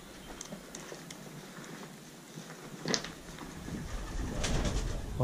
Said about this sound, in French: Ouais, c'est pigeon.